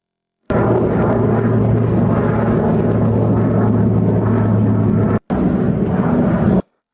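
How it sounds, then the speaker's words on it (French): F-18 fighter jets fly over Puerto Rico, a loud, continuous roaring drone with a steady low hum that swells slightly and cuts briefly before ending abruptly. "Les avions FI, les avions F-18 ont commencé à survoler Porto Rico"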